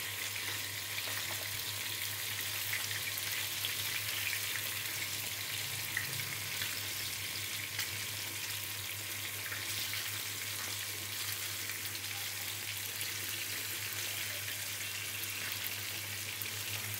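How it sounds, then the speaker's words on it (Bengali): A piece of katla fish frying in a pan, with a continuous, even crackling sizzle at moderate loudness that holds steady throughout with a low hum beneath. "এক পিঠ ভালো করে ভাজা হইলে আরেক পিঠ উল্টায় দেব"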